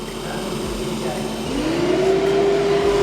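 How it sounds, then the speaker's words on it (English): A Cooltronic 24V DC truck parking cooler with a Secop compressor runs steadily in a workshop, and partway through its condenser fan spins up, adding a rising whirring tone that settles into a constant hum, close and moderately loud. "we hear that also the condenser fan started"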